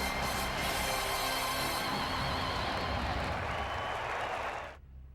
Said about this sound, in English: Crowd roaring at Wrigley.